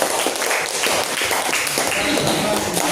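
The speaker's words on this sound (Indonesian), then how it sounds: "kita beri tepuk tangan kepada kelompok" Clapping from a classroom of students applauding a student group, a dense, steady patter of many hands filling the whole stretch, with some voices mixed in.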